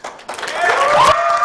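Audience applause at a 2019 Cherokee Phoenix election debate breaks out after a candidate's closing line, a steady wash of clapping beneath a voice speaking over it.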